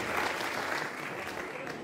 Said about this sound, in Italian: ancora un grazie con l'applauso del pubblico